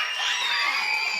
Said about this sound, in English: Can we give the Weatherfords, Miss Carole Boston Weatherford, Mr. Jeffery Boston Weatherford, a round of applause?